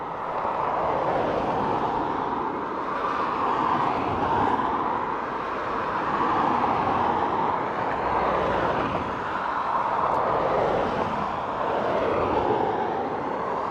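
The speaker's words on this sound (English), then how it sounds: "We've a plane coming in now" Airplane coming in to land at Dublin Airport, a steady, loud roar of jet engines that swells and fades slightly throughout, with no talk.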